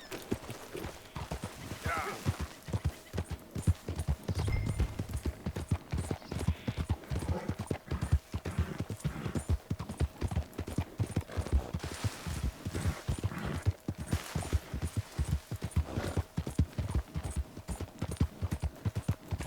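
Horses in the video game Red Dead Redemption 2 trot steadily, hooves clopping in a brisk continuous rhythm close up, with a brief snort partway through.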